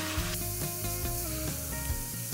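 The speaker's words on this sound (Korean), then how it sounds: "당면을 넣고 수분기가 사라질 때까지 볶아주다가" Glass noodles for japchae stir-fry in a frying pan with cooking oil, soy sauce and sugar, giving a close, continuous sizzle with faint tonal music beneath.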